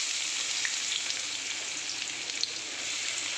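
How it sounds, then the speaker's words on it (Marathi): Chopped onions frying in hot oil for pav bhaji, a dense steady sizzle close to the pan, continuous and even with no voices. "तर टाकते कांदे"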